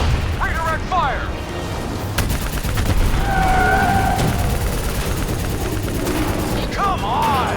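Bursts of gunfire and booms fill a first-person shooter video game battle, with rapid weapon fire and explosions over a continuous noisy backdrop and brief rising electronic tones at the start and end.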